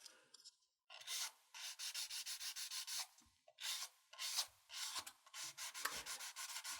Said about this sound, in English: With the sandpaper, you'd have to have it like maybe wrapped around a piece of wood or something